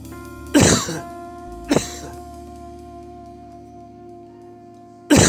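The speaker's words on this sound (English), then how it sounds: "A cough." Two close, harsh coughs, the second shorter, then a third burst near the end, heard up close over a steady low background hum.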